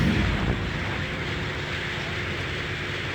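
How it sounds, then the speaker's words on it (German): Rumbling artillery fire rolls through a battle in the World War II strategy game Sudden Strike Forever, a sustained, dense low roar with a heavier thump at the start and no voices. "Artillerie ist bereit."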